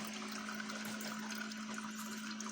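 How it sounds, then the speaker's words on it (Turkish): Water trickles and gurgles as it is added to an egg incubator through a filler port with the lid kept closed, over the incubator's steady motor hum. "İki güne bir su ekliyorum. Buradan ekliyorum. Makinenin kapağını açmadan ekliyorum."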